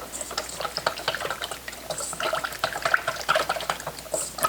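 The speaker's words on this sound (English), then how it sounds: "Whisk that in." Salt and black pepper being whisked into a lemon vinaigrette, a close, busy run of quick wet clicks and sloshing strokes, steady and fairly loud, with no talk over it.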